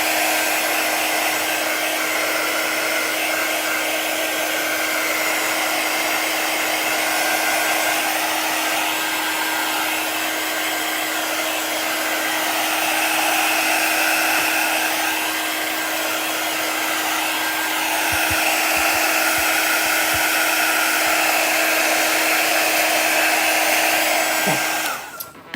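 A handheld hair dryer blows continuously and loudly up close for the whole stretch, drying chalk paste on a craft surface, with a steady whooshing whine that clicks off at the very end.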